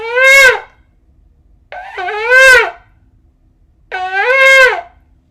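A ram's horn shofar blown in three short, separate blasts, each loud, bright and rising slightly in pitch, with brief silences between them.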